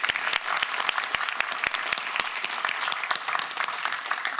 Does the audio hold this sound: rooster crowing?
no